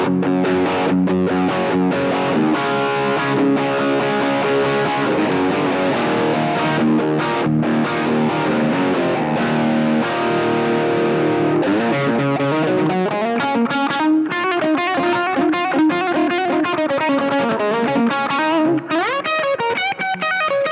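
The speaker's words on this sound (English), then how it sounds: "That's a fairly decent Overdrive channel" Electric guitar through the overdrive channel of a NUX Mighty Lite BT practice amp, playing continuously with a crunchy, gritty distorted tone, chords giving way to melodic bends and runs, loud with no voices.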